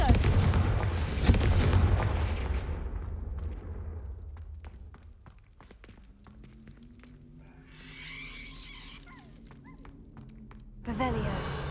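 A Confringo spell explodes in Hogwarts Legacy with a loud boom that fades into a long rumbling tail, followed by game effects and another sharp blast, with a voice speaking around it.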